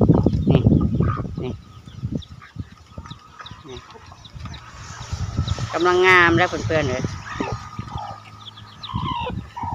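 Native-breed chickens on a small farm clucking and crowing, with a loud rooster crow near the middle and scattered clucks around it, while someone talks over the birds at the start.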